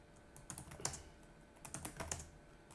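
Quiet keystrokes on a computer keyboard as a Docker command is typed, a few clustered clicks with short pauses between them, close and clean with no talking.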